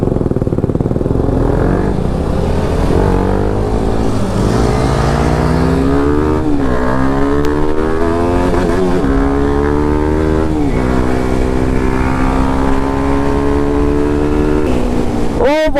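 Motorcycle with an aftermarket exhaust fitted with a dB killer drones loudly on a morning ride, its engine note rising and falling through repeated revs and gear shifts, close and continuous with faint voices beneath.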